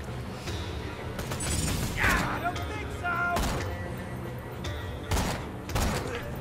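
Bursts of gunfire in Borderlands 2, several sharp loud shots and volleys spaced across a few seconds amid clanking mechanical game sounds, with voices talking between shots.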